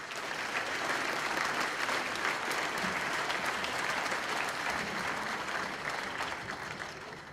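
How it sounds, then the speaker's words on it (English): An audience at a monthly historical society program gives a round of applause for a group of named people, a fairly quiet but continuous wash of many hands clapping that carries on for several seconds. "Let's give them all a round of applause"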